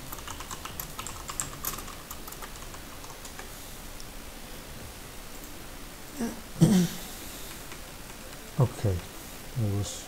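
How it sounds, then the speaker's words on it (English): Computer keyboard typing runs through the stretch, a steady patter of quiet key clicks beneath a few brief bursts of voice and background noise. "Okay, I was typing."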